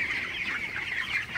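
Broiler chickens in a poultry house cluck and chatter in a continuous, moderately loud flock murmur, many birds overlapping with no talk.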